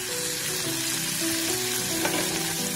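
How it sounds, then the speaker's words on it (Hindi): Green bell pepper and corn frying in butter in a pan, a steady close sizzle with stirring scrapes throughout the short stretch and no talk. "बटर में हल्का सा कुक करेंगे इनको।"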